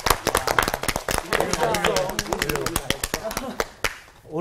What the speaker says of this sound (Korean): 그럼 박수 한번 하고 시작합시다